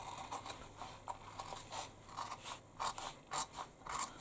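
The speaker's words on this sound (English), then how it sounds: "We don't need all this vinyl. So we cut away" Scissors snipping away excess vinyl while making a fringe bag, a series of quiet, close, crisp cuts coming in an irregular rhythm, with no talking.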